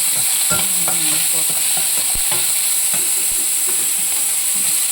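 Onions frying in a pan, a constant bright sizzle with scattered spatula stirs and clicks, close and alone.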